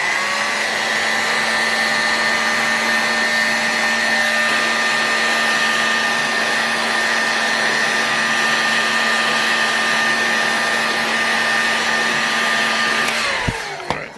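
A heat gun blows hot air onto a Super Tigre G61 model engine crankcase to fit bearings, a loud, steady droning whir held for many seconds before it abruptly switches off.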